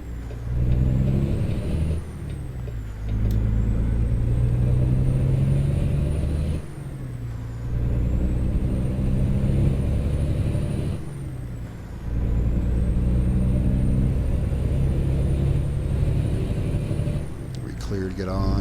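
Peterbilt 379 truck in American Truck Simulator, set in Nebraska: a steady loud engine drone with gear-change dips and a recurring high whine, with talk over it.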